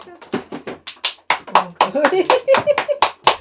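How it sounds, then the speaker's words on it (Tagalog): Sharp hand claps in short bursts around a mahjong table, mixed in with lively conversation and laughter from several players. "Palakpak eh."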